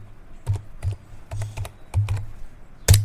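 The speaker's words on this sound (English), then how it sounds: "we need to simply type here gp update" Keys clack on an HP laptop keyboard as a command is typed in Windows 11, a few irregular bursts of close, crisp keystrokes ending in a louder final tap, with no talking.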